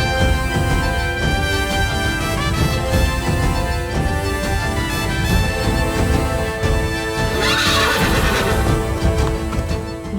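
A swift horse, prized as the fastest in twelve kingdoms in a Ramayan epic drama, neighs loudly and repeatedly with faint hoof clip-clop, all layered over continuous dramatic music.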